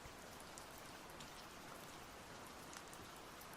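A rain shower pouring down steadily, a dense, even patter of drops on surfaces, soft and continuous with no voices.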